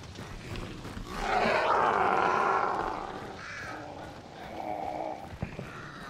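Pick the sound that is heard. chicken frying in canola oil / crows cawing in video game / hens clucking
crows cawing in video game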